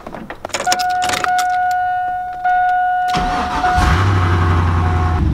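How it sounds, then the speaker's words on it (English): Keys jingle, a steady warning chime tones, then an engine cranks and catches, settling into a loud, close rumbling idle. "Let's go ahead and see if my truck turns on."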